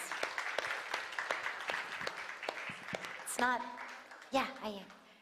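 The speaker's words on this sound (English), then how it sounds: "Let's give him a round of applause." Scattered applause at a satsang gathering, a handful of distinct claps at moderate distance, followed by a couple of brief voices cutting in toward the end.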